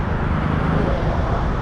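Road traffic at Kalamboli heard from inside a moving vehicle, a steady dense rumble of engines and road noise with no clear individual passes.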